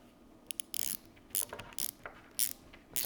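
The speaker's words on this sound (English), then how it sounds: "So you just tighten down that one down as far as it goes." A hand-operated safety wire tightener ratchets in short bursts of quiet mechanical clicking, close up, with small pauses between strokes and no talk.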